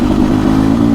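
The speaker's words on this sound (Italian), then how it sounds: "È il miglior motore 2 tempi 300 che c'è in circolazione" A Beta RR 300 two-stroke enduro motorcycle engine, model year 2024, running loud and close in a continuous raspy drone with a strong low buzz and a slight metallic clatter.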